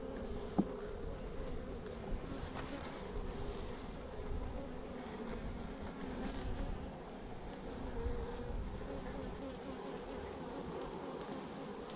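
Honeybees buzz steadily through a transfer from a swarm trap into a hive, a dense continuous hum of many insects close by with faint handling knocks.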